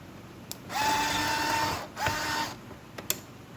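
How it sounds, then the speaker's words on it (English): Electric screwdriver fitted with a T10 Torx bit backs screws out of a Starbucks Verismo K-fee espresso machine, giving two sustained whirring motor runs with a steady pitch, close up and clear, with small clicks between them. "I got this contraption set up here with this screwdriver"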